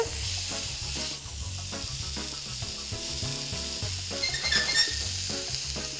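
Steady loud sizzling of steak frying in a hot pan, with occasional scraping and stirring sounds, close up.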